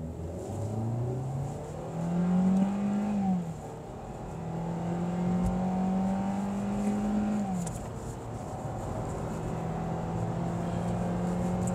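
A Hyundai Elantra 1.6 GL petrol car accelerates hard from inside, its engine note climbing steadily through the gears, each shift marked by a brief dip before the revs rise again.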